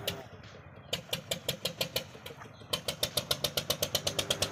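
A motor boat engine runs on the Brahmaputra river with a close, rhythmic chugging that pulses several times a second. It quickens slightly after a short pause, with no talking.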